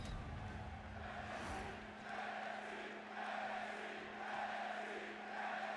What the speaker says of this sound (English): The crowd getting ready for action here